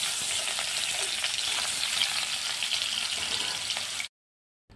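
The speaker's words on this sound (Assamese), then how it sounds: "আলুখিনি এনেদৰে তেলত অলপ ফ্ৰাই কৰি ল'লোঁ" Potatoes fry in mustard oil in a pan, giving a loud, continuous close-up sizzle that cuts off abruptly into silence near the end.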